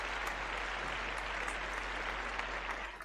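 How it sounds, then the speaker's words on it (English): Audience applause at a steady, dense level, even clapping with a low constant hum underneath, tapering slightly at the end. "here's an applause for you"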